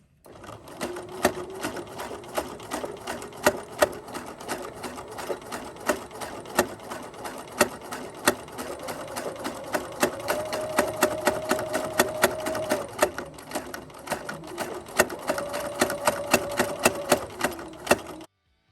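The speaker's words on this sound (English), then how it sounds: "Now I'm going to sew forward again." A sewing machine stitches a winter headband in a rapid, steady mechanical patter, close and clear, its motor pitch rising and falling slightly as it runs in bursts.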